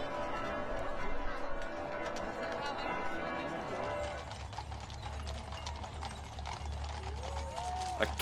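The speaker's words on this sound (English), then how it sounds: "A carriage. A literal horse-drawn carriage." Clip-clop of horses pulling a carriage at the coronation procession of King Frederik X in Denmark, steady hoofbeats amid crowd noise, with talk over them.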